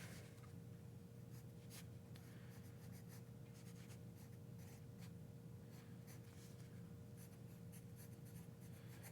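A pencil scratches across thin paper up close, a quiet, steady papery scratching broken by short strokes in an irregular rhythm over a faint constant hum.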